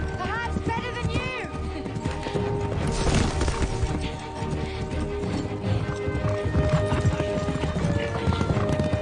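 A horse being ridden, its hooves clip-clopping in a steady rhythm with occasional neighing, set against dramatic music and voices.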